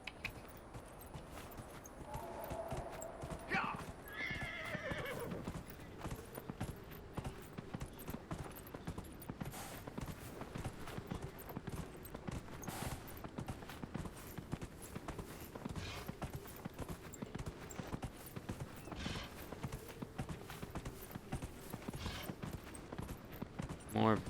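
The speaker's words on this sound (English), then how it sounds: "Get on the horse." A horse's hooves clip-clop in a steady galloping rhythm in the video game Dragon Age: Inquisition, a faint and continuous patter running through the whole stretch beneath intermittent game sounds.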